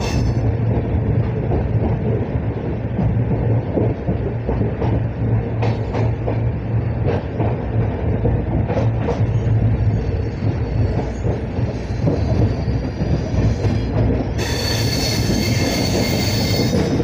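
A train speeds through a small railway station without stopping on the Dibrugarh to New Cooch Behar line, a steady loud rumble of wheels on rails with intermittent squeals and clatter, rising to a sharp hiss near the end.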